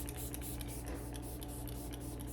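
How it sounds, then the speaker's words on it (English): A Benefit Professional makeup setting spray is pumped in a rapid series of short, soft hissing bursts close to the microphone, several within about two seconds, over a quiet hum. "I'm gonna be using my Benefit Professional setting spray"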